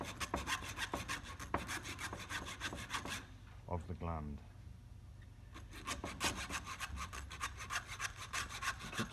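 Rapid rhythmic sawing strokes into cable while fitting a Hawke 453 universal cable gland, steady and close, pausing briefly midway while a voice speaks a few words, then resuming.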